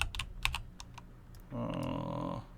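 Computer keyboard key presses during 3D toon-shader work: several crisp, close clicks early on, then a steady low hum under a few more faint taps.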